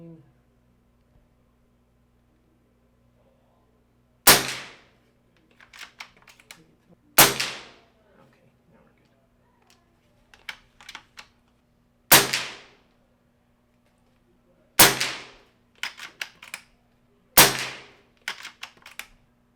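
Five sharp, loud shots from an Umarex Komplete budget air rifle at the end of a tank, spaced a few seconds apart, each followed by faint clicks and handling noise, with a steady low hum underneath.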